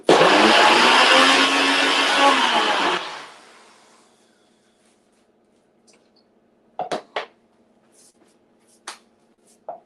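A kitchen blender blitzes basil sauce at a cooking demonstration, running loud and steady for about three seconds before it winds down. Some faint clicks and taps follow in the quiet.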